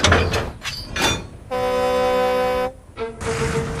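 Dennis, a diesel engine, strains to pull a train: a few rough bursts of effort, then a sustained horn-like blast, followed by rumbling clatter as the train lurches into motion.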